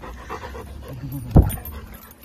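Rescue dogs Mango and Ulo pant lightly out in a park, with one short, sharp louder burst near the middle over a low, steady background.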